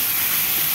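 A brief, steady loud hiss as water hits frying spice masala with onion, ginger and garlic in a pan while cooking chicken, sizzling evenly without a break.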